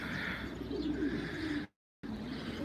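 Pigeons coo steadily and close by, a continuous low burbling that cuts out into brief silence before resuming.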